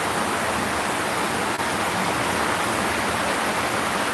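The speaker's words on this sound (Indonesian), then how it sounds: "di sini hujan lebat" Heavy rain pours steadily in a dense, even hiss that fills the whole stretch without pause, loud and close, with no voices over it.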